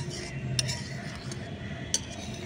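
Cornflour is stirred into milk in a cooking pot; a spoon clinks faintly against the pot twice over low, steady background hiss.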